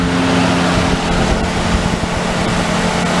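A gas weed eater engine idles slightly high nearby, a steady, loud, rough drone that holds even throughout with no speech.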